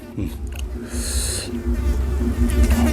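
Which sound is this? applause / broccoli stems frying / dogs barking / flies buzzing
flies buzzing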